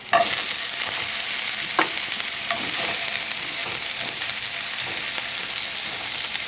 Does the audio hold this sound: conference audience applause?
no